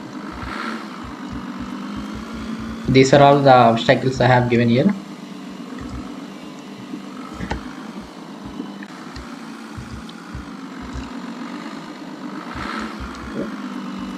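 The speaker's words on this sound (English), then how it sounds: "You can hear the sound coming from the car." Car engine sound in a Unity 3D racing game, a steady low idling drone running throughout with faint rises, someone speaking briefly over it near the start.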